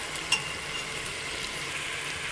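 Nihari masala goes into a hot pan for chicken nihari and fries with a steady, even sizzle, opening with one small clack of a utensil and no speech.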